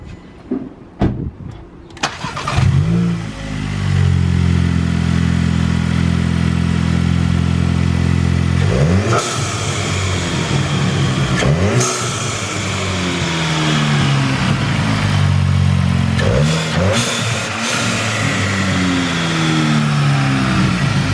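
A Mk8 GTI with a Forge blow-off valve cranks and catches, then holds a loud, steady idle punctuated by several quick revs that rise and fall, each ending with a brief release as the engine drops back.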